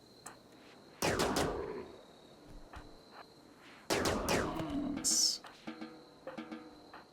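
Gunfire in the RimWorld video game comes as two sharp bursts of shots about three seconds apart, loud against a quiet background, followed by fainter clicks and small impacts.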